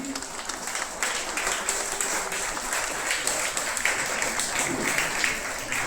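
Audience applause at an annual prize distribution ceremony at Variav Mehfil Nurul Islam, a steady wash of many hands clapping that carries on without a break from start to finish.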